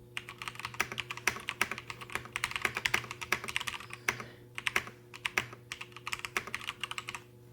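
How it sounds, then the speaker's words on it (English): Light typing on a mechanical gaming keyboard with tactile switches, a steady stream of soft, close keystroke clicks with brief pauses, heard alone without any voice. "So this is what it sounds like with light typing."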